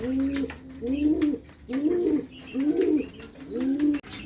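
Young homing pigeons give a close, repeated series of soft, throaty coos, five rolling calls in a steady rhythm with faint chirps between them.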